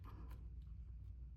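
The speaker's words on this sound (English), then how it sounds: "You could even cut it out with your scissors because it's pretty easy." A few quiet, crisp scissor snips spaced unevenly, close up, with no talking.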